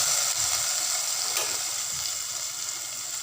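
Golden-browned garlic tempering poured into a pot of kadhi pakora, giving a loud, steady hiss of sizzling oil that fades slightly over a few seconds, with no talking.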